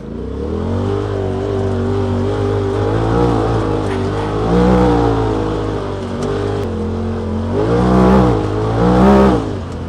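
A Polaris RZR XP Turbo engine running on E85 fuel revs up and down, a loud close-up drone with rising and falling pitch and stronger blips of throttle toward the end.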